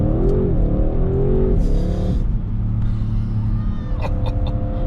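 A 2020 Audi RS 6 Avant quattro pulling away hard from the lights: a deep engine roar climbs through the revs in rising sweeps, loud and close from the cabin, with a gear change and a brief lull before it builds again.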